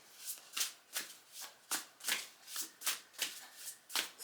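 Oracle card decks being shuffled by hand, a steady run of crisp riffling bursts about twice a second, close and quiet in a calm setting.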